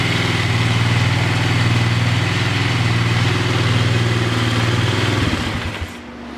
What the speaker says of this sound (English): When I press on it, idle revs up.